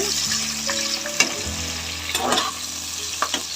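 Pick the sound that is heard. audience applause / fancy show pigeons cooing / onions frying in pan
onions frying in pan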